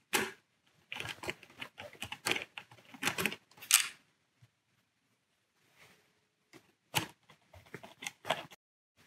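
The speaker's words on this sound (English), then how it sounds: "For the installation of the battery, unscrew the 4 screws at the bottom of the housing." Screws being unscrewed from the bottom of an ASTOPAD controller housing, heard as bursts of small clicking, scraping handling noise with short pauses, close and fairly quiet, no talking.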